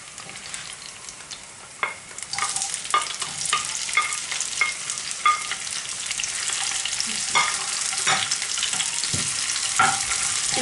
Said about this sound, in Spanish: vamos a freír un poquito.